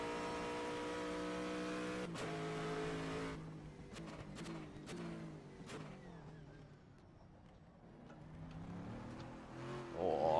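Aston Martin Vantage GTE racing at Sebring at night in a racing video game, engine droning steadily, then dropping off with gear changes and rising again in revs near the end, moderately quiet.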